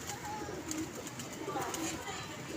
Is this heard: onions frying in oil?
no